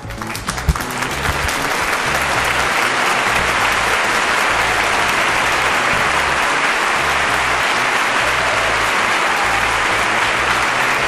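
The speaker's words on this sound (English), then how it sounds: "Everybody give Sunny Dingo a round of applause." A studio audience at a live puppet show in Florida breaks into loud, sustained applause that swells within the first second and holds steady and dense to the end, with no talk over it.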